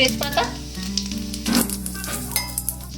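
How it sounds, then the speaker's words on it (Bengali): Whole cumin seeds and bay leaves crackling in hot oil and ghee, a busy close sizzle with sharp pops and brief stirring clinks, no voices. "তেল আর ঘিটা আমি খুব ভালোভাবে গরম করে নিয়েছি। এবার এর মধ্যে আমি দিয়ে দিলাম গোটা জিরে সামান্য পরিমাণে"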